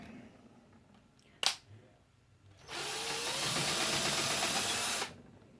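A sharp click, then a power drill whirs steadily for about two seconds spinning a flexible shaft that turns a lapping bar for Remington 700 scope rings, stopping abruptly, close and fairly loud.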